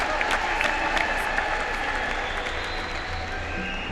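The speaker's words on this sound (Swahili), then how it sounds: "Hebu tuwapigie makofi sana sana" A church congregation at a deanery family day gives steady applause, a full, continuous patter of many hands clapping that stays even throughout.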